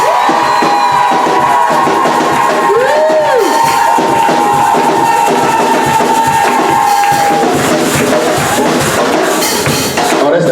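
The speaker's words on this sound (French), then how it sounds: "Est-ce qu'on peut pousser des cris de joie pour le Seigneur?" A church congregation bursts into loud, sustained shouts and cries of joy in praise, a dense crowd roar with whoops and raised voices filling the hall for about ten seconds.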